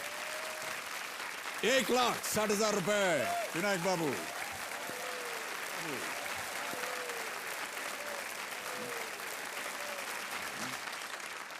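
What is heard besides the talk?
studio audience applause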